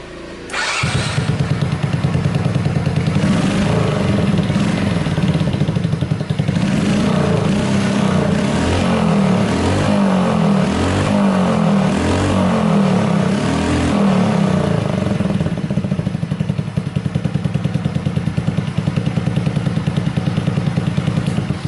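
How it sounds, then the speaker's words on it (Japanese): A Honda Super Cub engine starts and idles with a steady, throaty putter, close and loud, with occasional revs and an exhaust note muffled by a stainless steel scrubber stuffed in the muffler. "さあこれでちょっと音かけてみますかね。 音というかエンジンね。"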